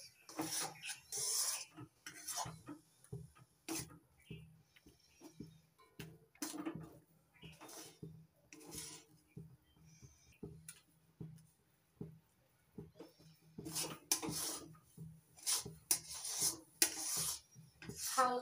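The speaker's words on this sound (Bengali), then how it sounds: "অনবরত নাড়াচাড়া করে পাক দিয়ে নিতে হবে।" A spoon or spatula stirs and scrapes milk curds (chhana) in a kadai over low gas heat, a faint, steady rasping rhythm of repeated strokes heard alone.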